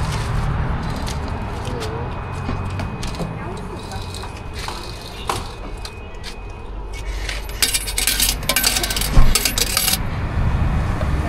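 Coins clattering and dropping from a car wash change machine in Germany, bright metallic jingles bunched near the end amid hum and voices talking nearby.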